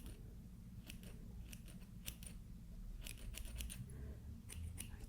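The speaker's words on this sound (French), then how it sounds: "je vais juste venir couper un petit peu" Small scissors snip false eyelashes in a string of quick, close, soft clicks, some single and some in short clusters, over a quiet background.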